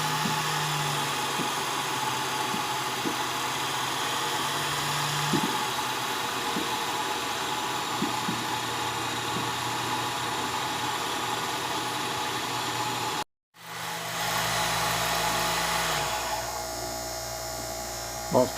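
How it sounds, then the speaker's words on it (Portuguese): A 3 mm drill bit bores a hole in a metal part ahead of tapping an M4 thread, giving a steady high whine that cuts out briefly, then starts up again nearby. "Passando uma broca de 3 mm, para depois fazer rosca naquele parafuso M4."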